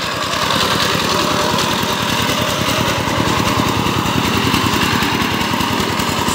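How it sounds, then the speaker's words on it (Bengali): An ACI 20 power tiller fitted with 18 blades ploughs muddy farmland. Its engine chugs loud and close with a steady, fast pulsing beat, running without a break and with no voices. "18 ব্লেড 18 ভাল পাওয়ার টিলার এসিআই 20 ইঞ্জিন দিয়ে কাদা জমি চাষ করা হচ্ছে।"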